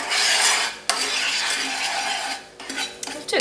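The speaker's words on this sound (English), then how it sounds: "The first thing that the caramel is going to do is to foam up like this. And make sure you keep stirring." A spoon stirs foaming peach cognac caramel in a pan, a loud, close, continuous scraping and bubbling hiss with a sharp clink just before one second and a brief dip near two and a half seconds.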